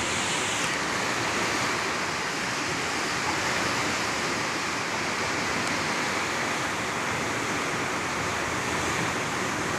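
A strong river current surges below a dam, a loud, unbroken roar of rushing water that holds steady and close throughout.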